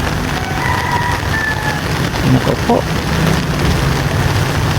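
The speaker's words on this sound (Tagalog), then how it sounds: "Pero kanina pa umuulan mga kapaling." Steady heavy rain falling outdoors during a flood in the Philippines, a dense continuous wash with a voice briefly speaking over it.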